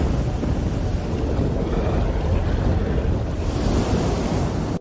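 Ocean surf crashes onto a shore in a loud, continuous roar that holds steady throughout, with a slight brightening near the end and wind buffeting the microphone.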